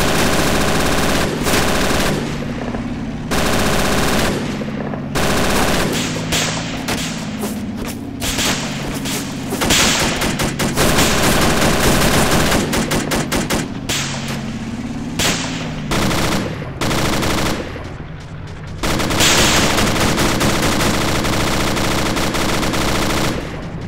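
Machine guns fire in a video game in long, loud, nearly unbroken bursts with brief pauses, rounds rattling heavily amid thumps and booms, and no voices.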